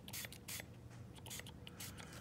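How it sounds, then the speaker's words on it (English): Short hissing bursts of lubricant spray hit a Spyderco Shaman folding knife up close, coming in about four quick, uneven spurts. "Going on ahead and spraying it down a little bit"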